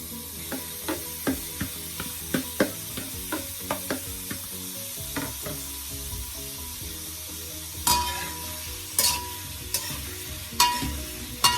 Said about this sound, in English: Now I'm going to start to add my shrimps.